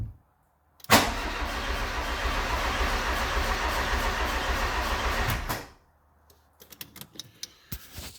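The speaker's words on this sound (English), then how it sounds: "this is what it sounds like if I try and start it." A VW Corrado 16v engine cranks steadily for about five seconds with a fast, rough rhythmic chug and never fires, then stops, followed by scattered close clicks and knocks.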